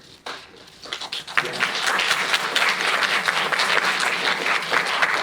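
An audience bursts into applause, building quickly from scattered claps to a dense, steady ovation that carries on throughout.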